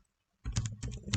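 Brief burst of typing on a computer keyboard after a moment of silence, a quick run of close, crisp keystrokes entering a command.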